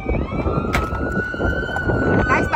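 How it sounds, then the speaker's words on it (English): A siren wails steadily with a rising and falling tone amid road traffic noise, while a person talks over it nearby. "I'm just right next to roads and sirens."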